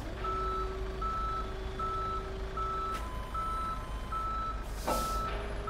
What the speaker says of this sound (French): il y a une dépanneuse qui arrive